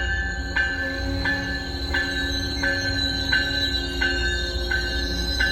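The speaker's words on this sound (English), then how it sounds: "arriving upstairs is 714 from Forge Park to Boston" Commuter train 714 from Forge Park to Boston pulls into an elevated platform, a steady droning hum punctuated by evenly spaced wheel clicks roughly every two-thirds of a second.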